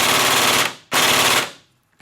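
Kong Power airsoft VFC SCAR AEG rifle on an 11.1 LiPo battery firing full auto in two loud, close bursts of rapid mechanical buzzing, each cutting off sharply, with a brief click at the end.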